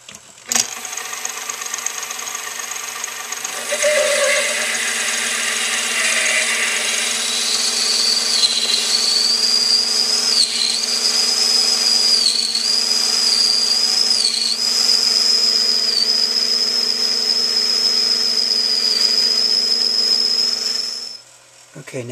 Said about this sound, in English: now I'm using 9/16 end mill.